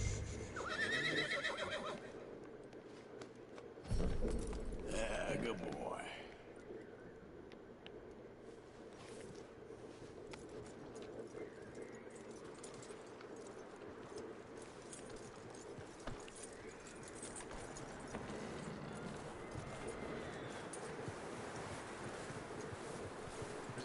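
A horse in the Red Dead Redemption video game gives a sharp neigh early on, followed by faint hoof clip-clops over a soft, windy outdoor background.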